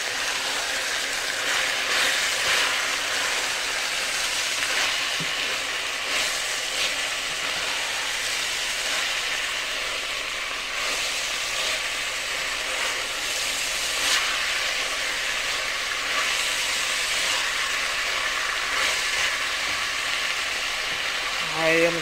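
Onions seasoned with salt and pepper frying in a pot for chili mac, a steady broad sizzle running continuously and fairly loud, with faint stirring scrapes now and then.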